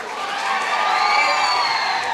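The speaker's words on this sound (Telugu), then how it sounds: "అందరూ కూడా క్లాప్స్ కొడదాం" Students at a college freshers day celebration clap and cheer for the vice principal, a short burst of crowd cheering and shouting with whoops rising and holding loud throughout.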